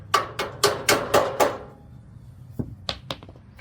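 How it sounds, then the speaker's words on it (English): Six sharp hammer taps seat the feet into the legs of a Char-Broil 4-burner gas grill, in a quick, steady rhythm, close and fairly loud, followed by a pause and three lighter knocks. "You might have to tap the feet a little with a hammer or a block of wood."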